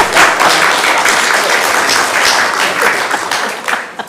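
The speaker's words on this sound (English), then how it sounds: "Now you can clap." Applause from the audience at a town council meeting, a dense burst of many hands clapping that holds steady, then fades near the end.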